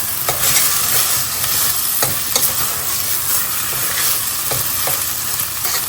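Ginger-garlic paste and onion being stirred in a hot pan, a steady sizzle with repeated scraping strokes of a spoon across the metal, close and fairly loud throughout.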